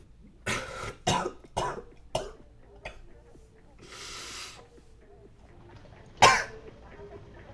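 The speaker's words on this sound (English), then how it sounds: "Dry cough, wet nose." A series of dry coughs, about six sharp bursts in quick succession, followed by a breathy pause and one final louder cough, close and alone with no talking.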